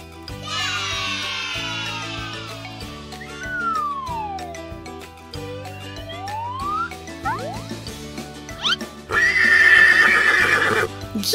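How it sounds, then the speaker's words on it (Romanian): A horse neighs in a children's zoo-animal guessing game, with a cat meowing and hooves clip-clopping over a steady musical backing, the whinny loud and sliding in pitch. "E un cal!"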